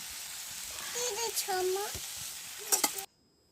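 Spice masala with coriander powder and chilli powder sizzles and gets stirred in a hot pan while cooking aloo matar. Steady frying hiss runs under scraping stir strokes and a few clinks, close up, then cuts off abruptly near the end.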